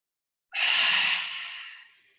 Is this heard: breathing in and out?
yes